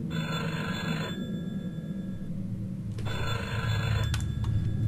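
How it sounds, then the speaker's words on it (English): Electronic telephone ringing in short repeated bursts inside the horror video game The Cellar, a clear trilling tone that stops, then resumes over a low ambient drone. "Is that a phone?"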